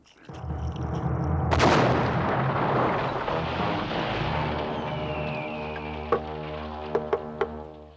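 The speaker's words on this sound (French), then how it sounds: "la nitroglycérine explose au moindre choc" Cartoon nitroglycerine explosion: a sudden loud boom bursts out, then a long rumbling roar that slowly fades, followed by a few sharp crackling pops near the end.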